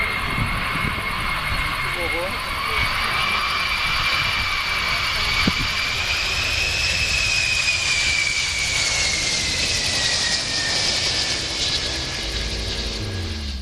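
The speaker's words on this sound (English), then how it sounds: "This plane passing by while flying low." A low-flying airplane passes overhead with a loud, sustained jet-engine roar and whine that shifts in pitch as it goes by, with faint talking beneath it.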